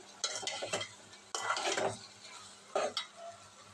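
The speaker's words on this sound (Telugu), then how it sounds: "టమాటాలు కూడా కట్ చేసి టమాటాలు కూడా అయితే వేయాలి" Chopped tomatoes are stirred into chicken gongura curry frying in a pan, giving a few brief scraping, sizzling stirs in separate bursts, close and moderately loud, with no talking.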